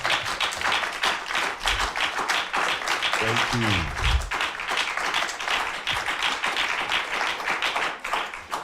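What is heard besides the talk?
audience clapping for a child news anchor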